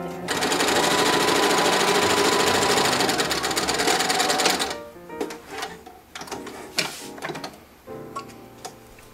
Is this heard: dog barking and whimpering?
no